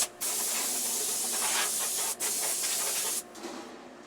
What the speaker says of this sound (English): I'm going to take my air gun, and this is going to allow me to remove any excess debris or dust.